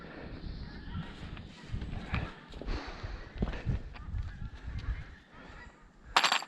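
Geese honk repeatedly over a pond, with several uneven calls at moderate distance among outdoor background noise and one sharp loud burst near the end.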